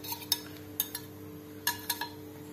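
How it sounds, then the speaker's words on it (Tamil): A metal pot is set on a stove before cooking salted modak, giving a few light clinks and taps, spaced apart and fairly faint against a quiet kitchen background. "அடுப்பில் வச்சு அடுப்பை பற்ற வச்சுக்குவோம்"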